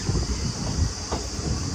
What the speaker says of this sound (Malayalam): വടപളഞ്ചി ഹാൾട്ട് റെയിൽവേ സ്റ്റേഷനിലേക്ക് ഇതാ നമ്മുടെ ട്രെയിൻ എത്തിക്കൊണ്ടിരിക്കുകയാണ്